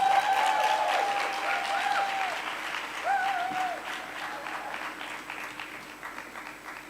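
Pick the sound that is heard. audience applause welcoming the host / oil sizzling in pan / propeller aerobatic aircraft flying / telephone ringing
audience applause welcoming the host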